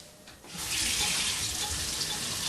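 Water runs from a tap in a house that is heated, switching on after a short quiet moment into a steady, fairly loud hissing stream that continues to the end.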